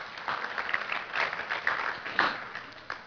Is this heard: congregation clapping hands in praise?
yes